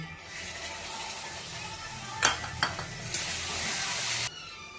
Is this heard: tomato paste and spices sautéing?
yes